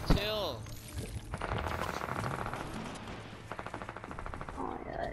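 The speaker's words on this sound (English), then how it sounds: "people are shooting at me" Gunfire in the Fortnite video game, bursts of shots crackling in rapid rhythmic clusters under game music and a voice talking over them.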